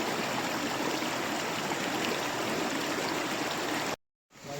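Water runs over the edge into a hole at a California gold-prospecting dig with a steady, close rushing gurgle like a small stream, which cuts off abruptly near the end.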